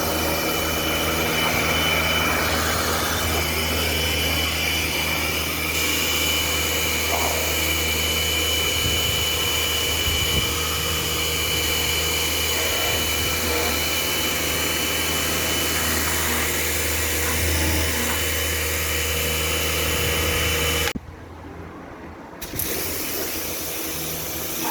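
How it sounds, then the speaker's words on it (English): A pressure washer gently spraying a Rover 45 car, a loud continuous motor whine and hissing water jet, cutting out briefly near the end before resuming. "I don't want to go really mad with the pressure washer"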